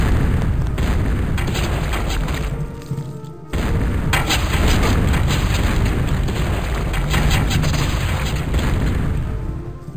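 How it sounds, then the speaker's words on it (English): Cannons in the strategy game Total Annihilation: Kingdoms fire in a dense, continuous barrage of loud booms and crackling blasts, with a brief lull partway before the volley resumes. "Yeah, cannons are awesome."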